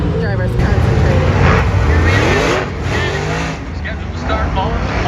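Race cars during hot-lap qualifying at Attica racetrack, engines roaring loudly and continuously with passes and revving, under a commentator's talk.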